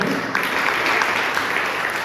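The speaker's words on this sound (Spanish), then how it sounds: "Dale un aplauso, papá." Church congregation clapping together during a sermon, a dense, even wash of applause filling the whole short stretch without pause.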